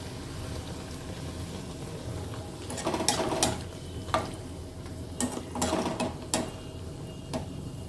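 Poori frying in hot oil in a home kitchen, pressed down so it puffs up; a steady low sizzle runs throughout, with several sharp clattering bursts of spluttering and utensil contact nearby and no talking.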